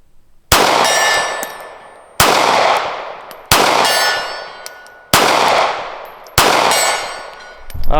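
Five loud, sharp shots from a Smith & Wesson Bodyguard 2.0 pocket pistol fired at a D-zone steel target 50 yards away, evenly spaced about 1.5 seconds apart, each leaving a long ringing decay.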